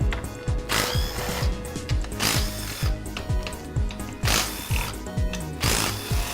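Ratchet with a 10mm socket turning bolts on a Ford 5R110W TorqShift transmission during a teardown, giving repeated rapid clicking bursts of the pawl, close and fairly loud, with no talk.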